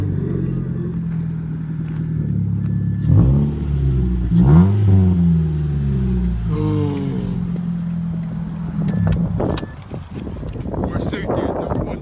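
A Subaru Legacy with its muffler deleted starts up and revs, loud, raspy bursts rising and falling several times up close, while people talk over and between the revs.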